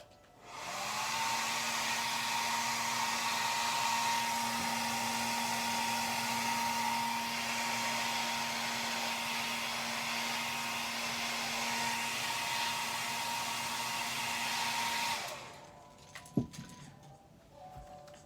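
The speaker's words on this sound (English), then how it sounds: "So I'm gonna heat set this real quick" Heat gun blowing hot air to heat-set airbrushed paint on a bluegill crankbait: a steady, loud whirring roar with a tonal hum, running about fifteen seconds before switching off, followed by a few light knocks.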